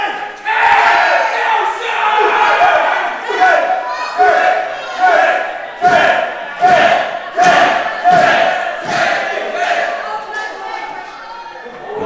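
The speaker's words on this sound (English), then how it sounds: "Los Palaminos walking out to the reception." Wrestling crowd roaring and chanting in loud, rhythmic surges as the tag team Los Palaminos walks out at a Sacrifice Pro Wrestling show, sustained and close throughout.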